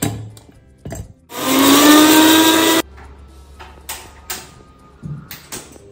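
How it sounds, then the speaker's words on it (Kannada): A kitchen mixer grinder grinds garlic, ginger, a little onion and green chilies in one loud, close whirring burst of about a second and a half, framed by quieter kitchen clatter and handling knocks. "ಬೆಳ್ಳುಳ್ಳಿ, ಶುಂಠಿ, ಸ್ವಲ್ಪ ಈರುಳ್ಳಿ, ಮೆಣಸಿನ್ಕಾಯಿ ಇಷ್ಟು ರುಬ್ಬುತ್ತೆ."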